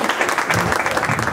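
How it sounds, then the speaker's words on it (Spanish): Guests at an 85th birthday party applaud in a brief, loud burst of dense clapping from many hands nearby, continuous with no pauses. "Fuerte el aplauso, por favor."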